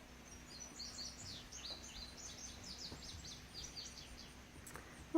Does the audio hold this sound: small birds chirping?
yes